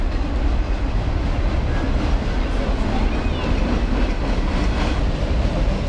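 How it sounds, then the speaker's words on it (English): A train rolls past close by at a waterfall in Oregon, producing a steady, loud rumble with faint rhythmic wheel clatter throughout. "There's the train."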